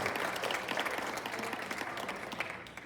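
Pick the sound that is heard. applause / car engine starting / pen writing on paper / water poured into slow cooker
applause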